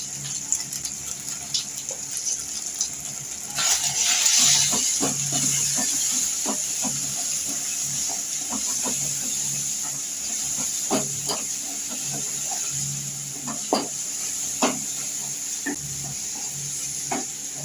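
Ingredients being stirred and fried in a cooking pan, a steady hiss and sizzle of oil running throughout with scattered scraping taps of a spoon against the pan, loudest early on, and no talking.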